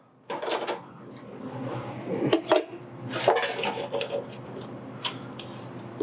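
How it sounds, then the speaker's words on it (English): Meat scraps going into a stock pot while making stew, with clattering pot and utensil knocks, scrapes and a few sharp metallic clinks, close and fairly loud, no talking. "And so I'll be putting those in our stock pot."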